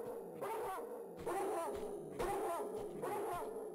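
Dog in Tomb Raider 2 Remastered, barking and yelping in a repeated series of about four sharp bursts, near and loud, with no talk.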